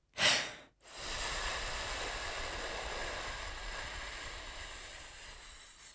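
A long, steady breath pushed out through the mouth during a breathing exercise, preceded by a short inhale, then an even airy hiss sustained for about five seconds, close and alone.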